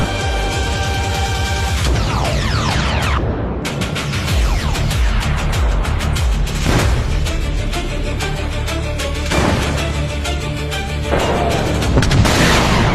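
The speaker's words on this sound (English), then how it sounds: "explosion reported in the air" Heavy booming blasts of aircraft being hit in the air roll through a loud, dense rumble, with several sharp detonations and crashes spread across the stretch.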